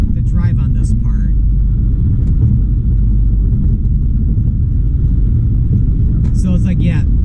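Car cruising along the I-469 interstate highway in Indiana, a loud, constant low road and engine rumble throughout, with a few faint brief sounds near the start and end.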